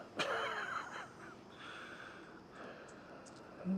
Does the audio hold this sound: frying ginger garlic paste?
no